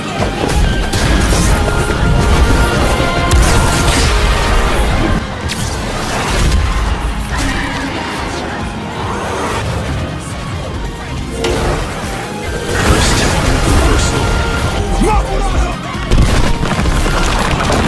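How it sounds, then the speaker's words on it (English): Anime battle explosion as Sukuna's Piercing Blood detonates Gojo's Red: a loud, sustained roar of booming blasts and crashing impacts with surging bursts throughout. "Sukuna uses piercing blood to trigger red and cause it to explode."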